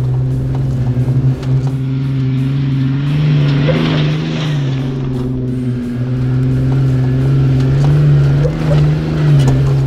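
Jeep Wrangler fitted with an ICON steering stabilizer bouncing over dirt, a steady low engine drone with rumbling road noise and faint rattles, close and continuous throughout.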